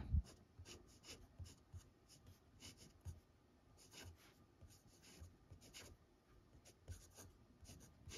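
A steel-nibbed fountain pen scratches across a Rhodia paper pad in quick, repeated strokes, close and quiet, with soft rhythmic scratching throughout and no talk.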